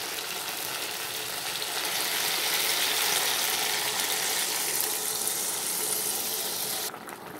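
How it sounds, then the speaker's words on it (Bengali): Shukto vegetables simmering in a pan after water is poured over the fried pieces, giving a steady, even broadband hiss and sizzle that holds at a constant level, then drops slightly near the end. "এবার আমি এর মধ্যে জল ঢেলে একটু সেদ্ধ করে নেব।"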